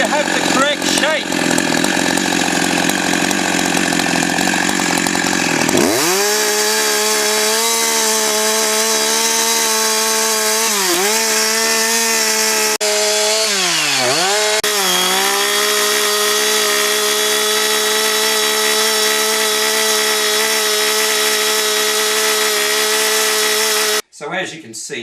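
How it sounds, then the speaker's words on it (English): A chainsaw runs loud and steady for about 25 seconds while roughing out the shape of a violin back from wood, its engine pitch dipping briefly a few times as it bites in, then cutting off at the end. "very quickly with the chainsaw, we can get the shape we need"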